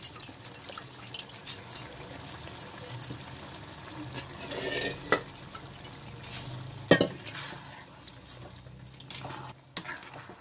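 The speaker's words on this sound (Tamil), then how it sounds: "இதோடு சேர்த்து கொஞ்ச நேரம் இந்த அரிசி வந்து வதங்கட்டும்." Soaked rice being stirred and sautéed in a pan with tomato and onion for tomato pulao, soft sizzling under scattered scraping strokes, fairly quiet and close, no voices.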